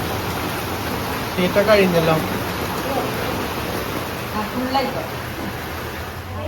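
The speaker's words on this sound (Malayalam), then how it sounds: "നല്ല മഴ" Steady, loud rain hisses throughout as a constant wash of noise, while people talk briefly beneath it.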